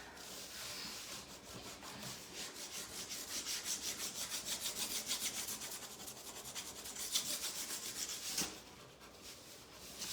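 Wood of an industrial peg board being distressed by hand around its holes, giving close, rhythmic rubbing and sanding strokes, fairly quiet and alone with no talk.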